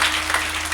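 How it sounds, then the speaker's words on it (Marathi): Audience at a kirtan gathering bursts into brief, dense applause, many hands clapping together loudly and close, with a low steady hum underneath. "त्यांच्यासाठी एकदा जोरदार टाळ्या झाल्या पाहिजे"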